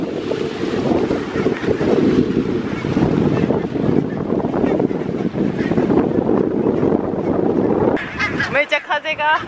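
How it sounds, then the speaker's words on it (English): Strong wind in Helsinki roars and buffets the microphone continuously, a heavy rushing blast that drowns out other sounds, easing briefly at the end as voices come through. "So windy!"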